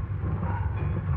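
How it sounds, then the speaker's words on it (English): A train in a railroad yard produces a continuous, muffled low rumble at moderate distance, steady and unbroken throughout the short moment. "See that train down there?"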